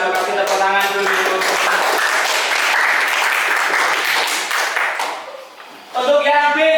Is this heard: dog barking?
no